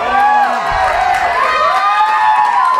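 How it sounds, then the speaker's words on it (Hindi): An audience at a Hindi theatre award ceremony cheers loudly, with rising and falling whoops and shouts over a steady crowd roar that stays close and continuous throughout. "हरीश जी के लिए जोरदार तालियां।"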